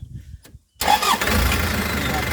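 An NKR 110 motorcycle engine cranks briefly, falls silent for a moment, then catches and settles into a steady, loud idle close by.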